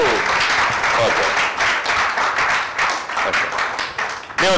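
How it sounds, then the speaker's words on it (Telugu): Congregation clapping in praise at a Christmas carol service in Gandluru, a dense, loud, sustained burst of many hands near and far, with a brief sharp clap at the end. "మన ప్రభుని స్తుతిస్తూ చప్పట్ల ద్వారా ప్రభుని కనపరుద్దాం"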